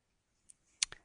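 A computer mouse is clicked during a few short, sharp taps: a faint tick followed by a louder double click, close and crisp against near silence.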